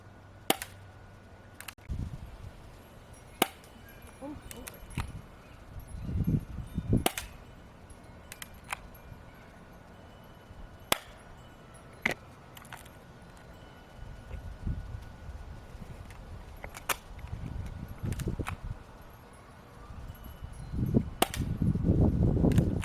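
Cheap airsoft pistol fired at a cardboard box and cans, sharp isolated snapping shots at irregular intervals, some with faint ticks of pellets hitting targets, over low background rumble.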